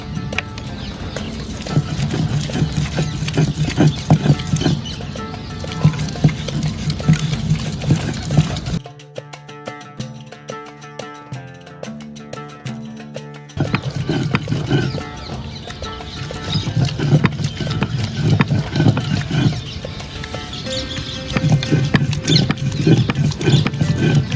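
Mixer grinder blending onion and tomato into a paste, a loud continuous grinding roar that stops for a few seconds midway, then resumes at full strength.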